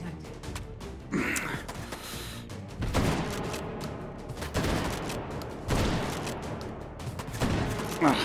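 Gunfire rings out in the Hot Dogs, Horseshoes & Hand Grenades VR game, several sharp shots and bursts spaced over the stretch, with a gasp or brief voice sound in between.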